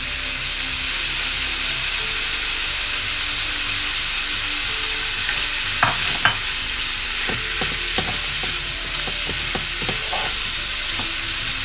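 Garlic, coriander and parsley sauté over medium heat in a pan, giving a steady close sizzle with a few sharp clicks of a utensil against the pan toward the end.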